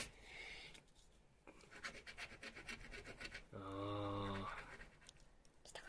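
A coin or fingernail scrapes across a lottery scratch card in quick rasping bursts, close up, interrupted partway by a loud low droning buzz.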